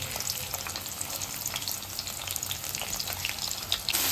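Chopped onions fry in a pan in a dense, even sizzle that holds close and steady for a few seconds, with light crackle throughout and no talking.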